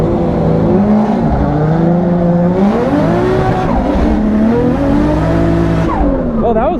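Turbocharged 1.5JZ-swapped BMW E36 drift car launching in second gear, a loud sustained engine roar with rising and falling rev tones, tire squeal, and crowd or voices mixed in underneath throughout.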